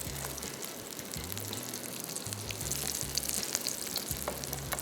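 Fish kabab frying in a pan over low heat, a soft continuous sizzle with faint crackles, steady and fairly quiet with no talk.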